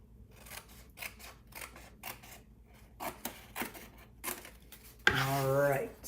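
Scissors snip through paper card stock in a series of close, crisp cuts with short pauses between them, and a person's voice comes in near the end.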